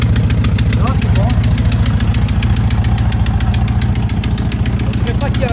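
Alfa Romeo 156 engine, a drift project car with exhaust manifold work, idles close up with a steady rapid ticking pulse that could pass for knocking, loud and continuous throughout.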